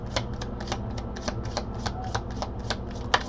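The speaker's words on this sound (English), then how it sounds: "This came out in the pre-shuffle." A deck of tarot cards being shuffled by hand before a reading: quick, rhythmic riffling bursts, close and crisp, repeating about a dozen times with no talking.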